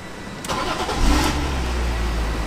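A turbocharged BMW E46 M3 Touring estate car starts and settles into a steady, rumbling idle, up close and loud with a brief rise in revs, and no speech.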